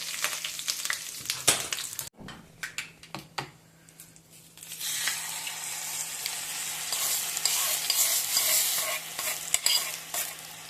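Mustard seeds, cumin, split gram and curry leaves crackle and pop in hot oil after a few utensil clatters, building into a steady, close sizzle.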